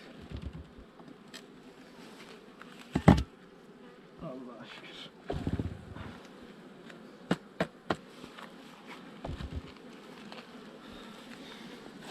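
Honey bees buzz around an open hive during a honey harvest, a steady close drone broken by sharp handling knocks and bumps as frames are worked.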